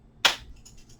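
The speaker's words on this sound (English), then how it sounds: "clap the hands" A single sharp hand clap, loud and close, at the end of a slow yoga movement for easing back pain, followed by a quiet room.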